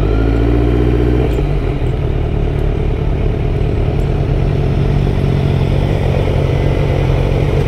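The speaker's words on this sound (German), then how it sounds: "Alter, wie viele Autos kommen hier?" Loud, steady roar of car engines passing close by on a street, a continuous rumbling wash of traffic with no voices.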